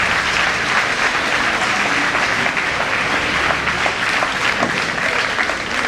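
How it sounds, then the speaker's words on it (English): Sustained applause from an audience at a school investiture ceremony, a steady dense clapping that stays loud and even for the whole stretch with no voices over it. "Please clap for yourselves"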